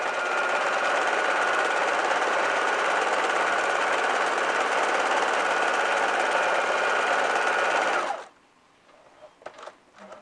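A sewing machine runs continuously and loudly for about eight seconds, sewing a tape onto a cushion cover with a dense, rapid chatter, then stops abruptly, followed by a few faint handling knocks.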